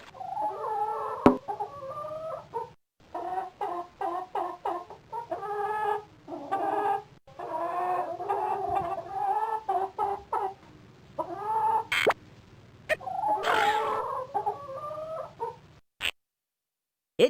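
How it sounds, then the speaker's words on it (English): Rooster and chickens in a farm exploration video game give repeated, close crowing and clucking calls in uneven bursts, with no talking. "Children like to imitate the sound that roosters make by crowing cock-a-doodle-doo."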